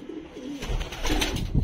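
Pet pigeons, including a brown male and kasni-coloured birds, coo softly in a short low burst close by, with a few fuller throaty notes near the end and no talking.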